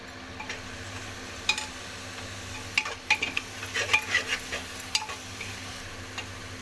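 Cumin paste and tomato paste fry quietly in a pan, with a soft low sizzle and scattered clinks and scrapes from a spoon stirring against the metal.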